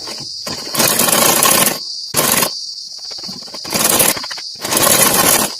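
A sewing machine stitches elastic into palazzo pants, running in four short bursts of rapid mechanical whirring and chattering with brief quiet pauses between them, close and fairly loud.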